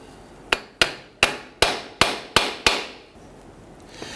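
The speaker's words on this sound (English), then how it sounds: "tap around the edge here and separate the rear unit from the coupler here." Seven sharp, evenly spaced metallic hammer taps ring out close by as a Jeep Grand Cherokee drive shaft is knocked loose from its coupler, each strike with a brief ringing decay.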